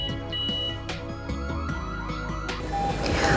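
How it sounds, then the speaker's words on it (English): An electronic alarm siren cycles loudly through rapid chirps and rising sweeps, close and continuous. "After the siren sound beep beep"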